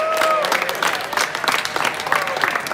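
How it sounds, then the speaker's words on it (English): Applause at a boys' swim team banquet, a crowd clapping steadily with cheers and whoops, loud and close, with voices mixed in. "round of applause for me, right?"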